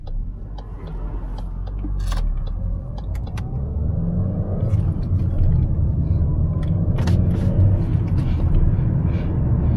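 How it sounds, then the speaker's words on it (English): Cars pass a delivery vehicle on a very wet road near Coalisland, Dungannon, in County Tyrone, Northern Ireland. A steady low rumble and tyre hiss swell gradually over about ten seconds, with no talk. "Two cars coming behind me."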